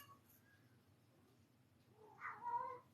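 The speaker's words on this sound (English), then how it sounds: "My cat's going crazy." A cat lets out a loud, drawn-out meow that rises into a yowl near the end, following a quiet stretch with faint background hum and no talk.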